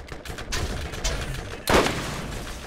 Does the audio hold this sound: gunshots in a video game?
yes